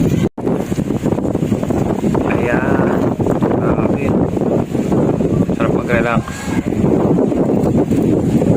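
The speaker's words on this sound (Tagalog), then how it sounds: "Napakasarap ng simoy dito, guys. Sobra. Ang hangin." Strong sea breeze at a beach resort in Anilao, Batangas buffets the microphone with a constant rumbling roar while a person talks over it.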